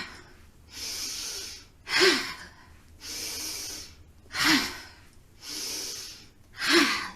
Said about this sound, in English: diaphragmatic exhale.